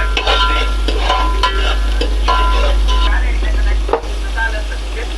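Green chillies and mint are stirred as they fry in a pan for mutton biryani, giving a steady loud sizzle with repeated scraping strokes of a spatula close up, alone without talking.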